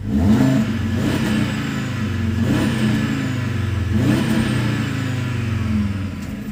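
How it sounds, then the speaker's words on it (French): An Audi RSQ3 five-cylinder engine revs repeatedly up to its limiter, giving three loud throaty surges with a steady rumbling idle between them, close by and with no talking. "le 5 cylindres il fait un beau bruit"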